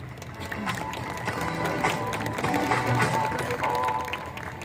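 An audience at a graduation ceremony at St Columba's School in New Delhi applauds the art teacher with a steady, sustained wash of clapping from a large crowd.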